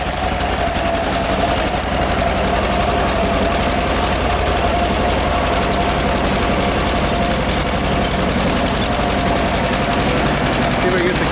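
A 1948 John Deere B two-cylinder tractor engine pulls a two-bottom plow, its rapid steady putt-putt firing loud and continuous from start to finish with no pauses.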